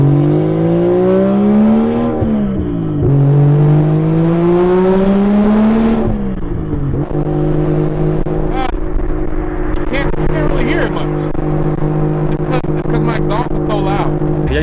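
A 1JZ-powered Lexus IS300 with a very loud exhaust drones steadily from inside the cabin while driving, its pitch climbing and dropping through gear changes, with someone talking over it.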